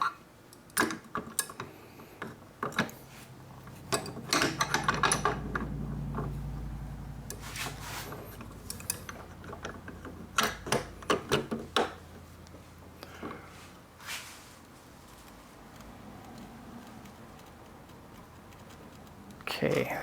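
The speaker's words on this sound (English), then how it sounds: "let me go ahead and torque this and see where we can go with it" A torque wrench tightens an AR-15 barrel nut with a series of close mechanical ratcheting clicks in bursts, some sharper snaps among them, and someone speaks at points.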